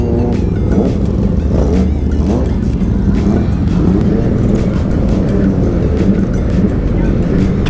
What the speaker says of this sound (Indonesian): Om, om geber sekali, om.